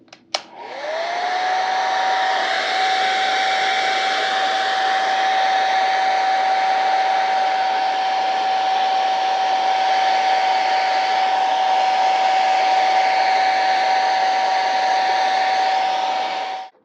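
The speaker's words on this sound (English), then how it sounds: "so I have no choice but to use the damn blow dryer" A blow dryer runs continuously while drying a wig. It clicks on and spins up to a steady, loud whirring roar with a sustained whine, holds without change for over fifteen seconds, then cuts off.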